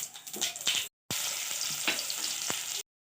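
Cumin seeds and crushed garlic cloves hit hot oil with popping mustard seeds, giving a steady close sizzle with scattered crackles and a short break midway, no voices.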